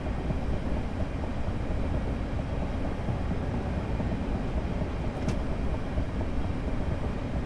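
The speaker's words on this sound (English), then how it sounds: "Going over the points." Class 465 electric train running over points on the Chatham Main Line in Train Simulator, a steady loud rumble of wheels and motors with no clear clicks, no voices.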